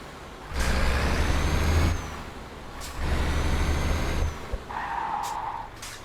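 A truck in the Euro Truck Simulator 2 game skidding, with two long, loud rumbling slides separated by brief pauses and a higher squealing tone near the end.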